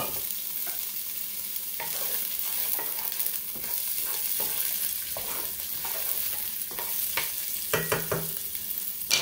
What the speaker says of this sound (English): So now I'm going to add in my 1 cup of green onions.